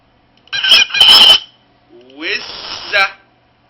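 Two loud, rasping goose honks sound in quick succession nearby, followed after a short pause by a longer, rising nasal honk that ends abruptly.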